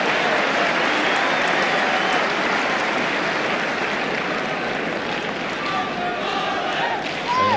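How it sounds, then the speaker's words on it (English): Tottenham football crowd at a 1982 match against Nottingham Forest cheering and applauding in a steady, dense roar throughout, with a commentator's voice faintly over it. "Tottenham crowd giving him some good-natured backing there."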